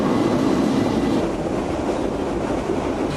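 A Barcelona metro train rumbles loudly and steadily, a dense low roar of wheels on track heard from inside or right beside the carriage, constant throughout with no talk.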